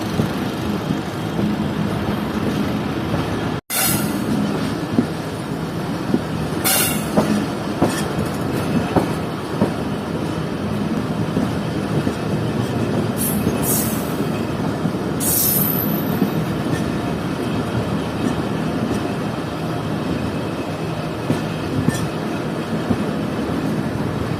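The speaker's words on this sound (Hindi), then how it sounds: "और ये ट्रेन अब वापस पुराने रास्ते जा रही है" The Fareed Express, a private train from Lahore to Karachi, runs along the line in a steady, loud rumble with intermittent high wheel squeals and a few sharp clanks, heard from nearby.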